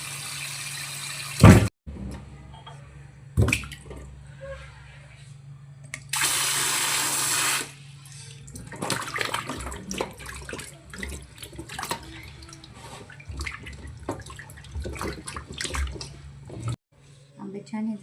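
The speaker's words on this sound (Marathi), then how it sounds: "आंब्यांना छान आपण धुवून घेऊया." Mangoes are washed under a running kitchen tap, with steady splashing water, bursts of a stronger stream and handling noises in a sink, while someone talks over parts of it.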